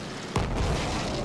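An aircraft crashes and explodes in the World War I shooter Battlefield 1: one sudden heavy boom, followed by a sustained, loud roaring rumble.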